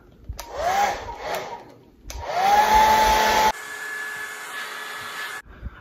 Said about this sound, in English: Back to the blow dryer.